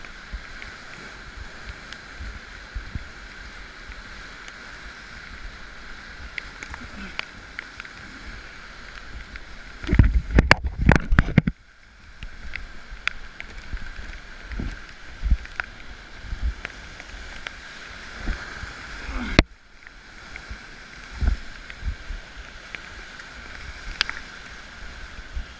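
Rushing whitewater on the Illinois River at high water near Cave Junction, Oregon, with a steady roar of rapids and wind around a raft and a sudden loud burst of crashing waves midway.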